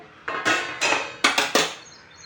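A metal lid lifted off a preheated steel cooking pot, giving a few sharp clinks and clatters close by, several separate metallic knocks ringing briefly against the rim.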